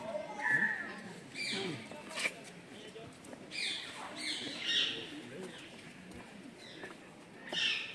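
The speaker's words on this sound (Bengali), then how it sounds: "পাখিদের কলরব।" Birds chirp and call in an aviary that holds peacock-like birds. Bright calls come repeatedly, close and fairly faint, over soft background noise and a few low voices.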